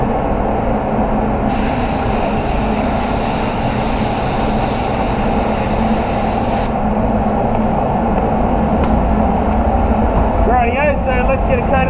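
A spray gun hisses in a steady burst of about five seconds, spraying base coat on a BMW 325i over a continuous background roar, followed by quieter rustling and brief spurts.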